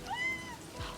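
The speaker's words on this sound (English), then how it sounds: "Cat!" A cat in a horror interactive novel game gives a single short, clear meow near the start, heard close against a soft background hum.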